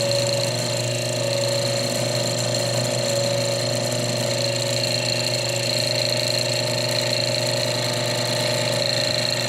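Diamond tool grinding a large chrysocolla bead as it spins, a steady, continuous whine and hum with a constant motor drone beneath, close and unbroken throughout.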